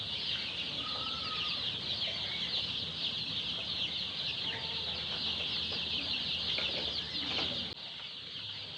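Colour Bird chickens in a farm shed cluck steadily at close range, a dense flock chorus with a shrill high chirping layer running throughout, no talk.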